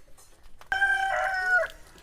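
A single rooster crows once, loud and near, a drawn-out call after a brief quiet start.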